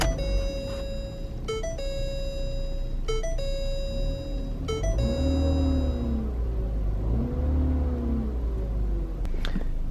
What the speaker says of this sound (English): just go ahead and start the car